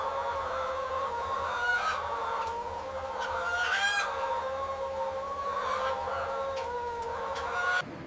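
Many chickens in a climate-controlled broiler house, a dense, continuous chorus of clucking and calling over a steady low ventilation hum, with no single bird standing out.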